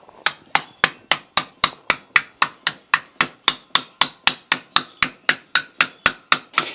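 Rapid, steady hammer blows ring out on copper being beaten smooth, about three strikes per second, sharp and close with bright metallic ringing, no voices.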